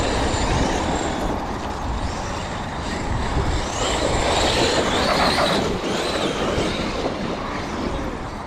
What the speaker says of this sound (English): X-Maxx racing, let's go.